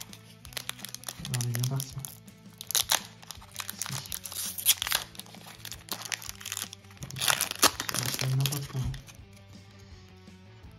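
A Pokémon card booster pack wrapper is torn open, its plastic crinkling and ripping in several bursts, with conversation continuing throughout.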